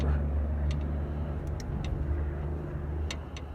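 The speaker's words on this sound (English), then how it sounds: "Wow, that truck is loud. You can hear that." A heavy truck rumbles past close by, its low engine drone steady and loud before easing off slightly, with a few faint clicks over it.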